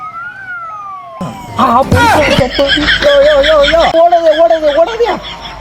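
An ambulance siren wails alone briefly, then voices talk and laugh loudly over the continuing warbling tone.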